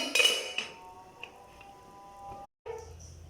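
A metal lid clinks down onto a pot of amaranth leaf stir-fry, a bright clatter at first followed by a lighter knock and a faint ringing tail, then a brief silence and soft kitchen noise.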